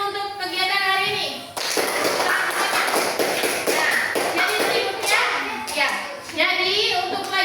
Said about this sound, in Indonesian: Kita tepuk tangan dulu untuk kegiatan hari ini.